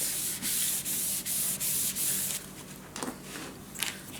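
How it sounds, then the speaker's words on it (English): Glued paper being burnished down onto a handmade mini scrapbook album page, a steady close dry rubbing in repeated strokes with brief pauses, then lighter scattered handling taps toward the end. "Burnish it down."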